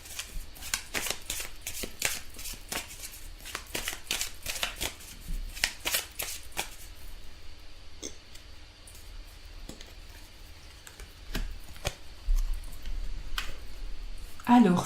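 Tarot cards are shuffled in quick, crisp riffling bursts for several seconds, then a quieter stretch of single card handling, with someone speaking French over it.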